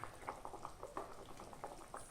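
Fish curry bubbles in a pot over a raised flame, soft repeated pops and gurgles at an uneven rhythm, close but faint, with no voices.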